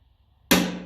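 A single sharp metal strike rings out as a part of a Massey Ferguson 35 tractor is knocked before drilling. The close, loud hit decays quickly after a quiet lead-in.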